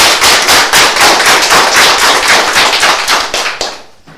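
A studio audience on a French morning television show applauds with a loud, dense, steady clatter of many hands for about four seconds, then tapers off at the end.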